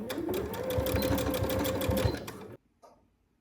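Sewing machine stitching elastic along a fabric edge for a shirred dress, running as a steady, close, loud mechanical whir for a couple of seconds before stopping abruptly, followed by a faint click.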